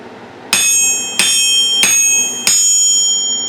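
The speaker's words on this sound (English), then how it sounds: "I shouldn't be afraid to go and bang the heck out of it with my ball peen hammer" A ball peen hammer strikes a 66-pound Vevor cast steel anvil four times in a steady rhythm, each blow a loud, bright ping that rings on and sustains between hits, close up and without talk.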